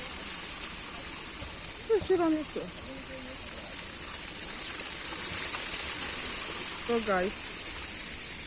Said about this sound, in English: Just playing with water.